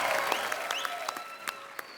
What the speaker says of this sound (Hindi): आप सबकी जोरदार तालियों के बीच वेरी टैलेंटेड हिमेश रेशमिया